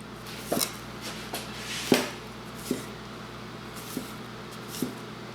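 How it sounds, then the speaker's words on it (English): A knife slices garlic cloves on a cutting board, giving about seven separate soft chopping taps at an uneven pace, close and fairly quiet. "I'm going to slice my garlic up"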